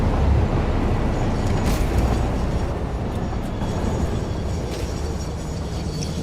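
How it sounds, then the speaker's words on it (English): A train rolls along tracks in the video game Satisfactory, a steady, loud rumble running the whole time with faint rattling on top and no talk over it. "so choo-choo train works now"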